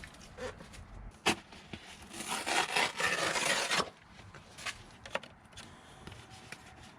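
Rough tearing and rubbing as cardboard from a drink case is cut up during a GMC Sonoma brake job, one brief louder stretch amid quieter scraping, close by and without speech.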